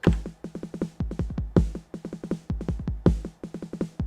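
A 909 drum machine beat drives a busy, looping pattern of deep kick thumps interlocked with snappy snare hits, accented strokes standing out at a steady tempo, loud and unaccompanied.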